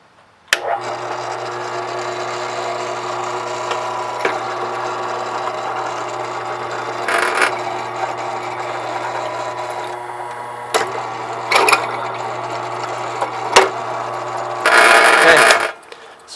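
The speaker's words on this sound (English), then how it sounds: "I'm going to go ahead and drill my hole." A drill with a 5/16 bit bores a hole in 1-inch square steel tubing, a steady close motor whine holding for several seconds with brief bursts of grinding and a few sharp clicks before it stops.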